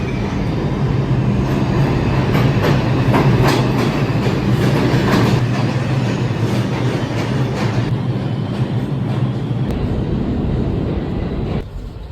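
A New York subway train rides the rails at speed, loud and close, its steady roaring rumble broken by rhythmic clicks and clatter before the noise drops away near the end.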